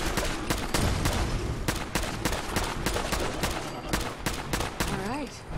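Rapid, loud gunfire from a weapon in Fallout 4's Far Harbor, sharp shots repeating in quick bursts throughout, with a brief voice near the end.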